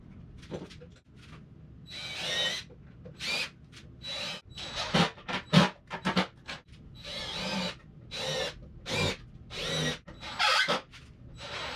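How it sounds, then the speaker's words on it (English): A power drill with a countersinking bit cuts countersink holes in walnut and cedar for an epoxy end table, in repeated short whirring bursts separated by pauses. The bursts are close and moderately loud, with no talking. "did a little counter sink with a countersinking bit"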